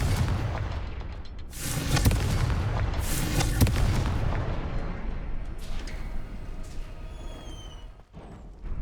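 Confringo fire spell explosion in the Hogwarts Legacy video game: a loud, sustained roar of booming blasts and crackling bursts that fades toward the end, with bright zapping tones trailing off.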